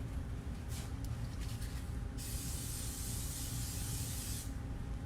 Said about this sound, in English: He's even gonna put some Vaseline spray on it for me